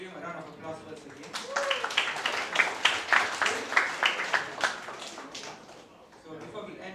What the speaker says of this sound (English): we can give him a round of applause once again